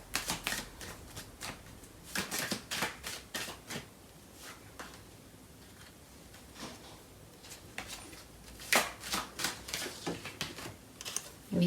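A deck of tarot cards is shuffled by hand in a series of quick, crisp riffling bursts and soft flicks, close and clear, with no talking.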